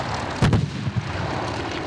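A fighter plane drops a bomb during a war reenactment at a border outpost: a dull, booming blast rises over steady aircraft-engine drone, followed by a smaller thud, heard from a distance outdoors.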